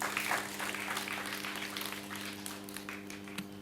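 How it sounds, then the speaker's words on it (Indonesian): Applause from a seminar audience at an Indonesian talk show on spreading joy, a steady, moderately distant wash of clapping that holds evenly throughout with a faint steady hum underneath. "Tepuk tangan dulu untuk pria."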